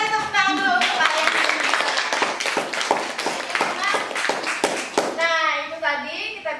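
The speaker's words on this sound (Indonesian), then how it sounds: "Kita beri tepuk tangan dulu untuk kalian." Students clap together in a classroom teaching-skills session, a dense burst of handclaps that fades and then stops as children's voices chatter over the end.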